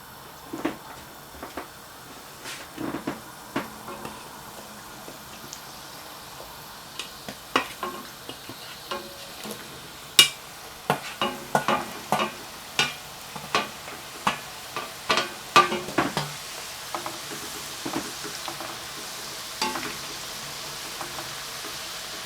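Homemade British-style chips frying a second time in hot oil, giving a steady soft sizzle broken by scattered pops and crackles that grow busier toward the middle, with no talking.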